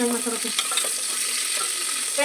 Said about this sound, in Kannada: ಮೆಣಸಿನ್ಕಾಯಿ ಫ್ರೈ ಆಯಿತು